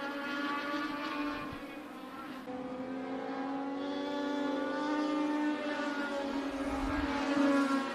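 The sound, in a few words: Legends race cars racing at Tucson Speedway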